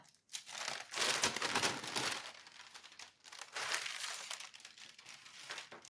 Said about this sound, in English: When you're done, carefully remove the tape and the tracing paper.